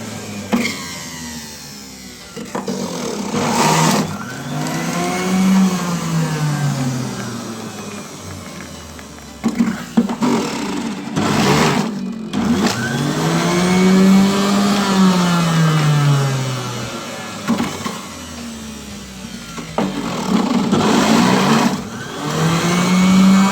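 An electric juicer grinds apple pieces with a loud whirring motor that rises and falls in pitch as fruit is pushed in, running in several long bursts separated by brief pauses.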